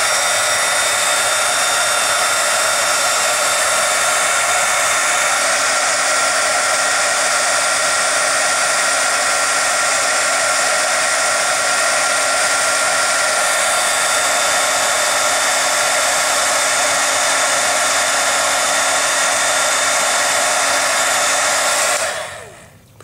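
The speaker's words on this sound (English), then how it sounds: "Go ahead and use your heat tool again and heat the entire surface till it melts and is shiny." A handheld heat tool blows with a loud, steady whooshing roar while melting embossing powder on a paper craft surface, running continuously for over twenty seconds before switching off and winding down.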